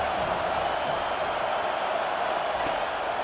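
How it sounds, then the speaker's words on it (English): Steady, broad stadium crowd roar in EA College Football 25, Illinois at Penn State, swelling as fans back the defense on third down; a dense continuous wash of noise without clear breaks. "Decibels rising as the crowd gets behind this defense on third down"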